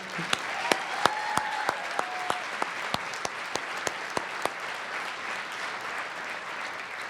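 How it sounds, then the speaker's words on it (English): Audience applause at a special presentation event, a steady wash of clapping from a crowd with a few sharp, louder claps standing out in the first few seconds, continuing evenly to the end with no talking. "Can we give him one more round of applause?"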